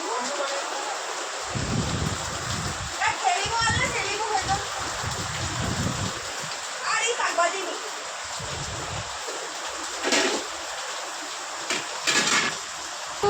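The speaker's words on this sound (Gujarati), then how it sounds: "વરસાદ ચાલુ જ છે" Steady rain pours down outside a home, with water washing across a road in a continuous hiss and splash while people talk over it.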